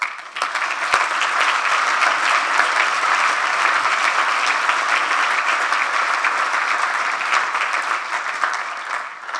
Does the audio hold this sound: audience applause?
yes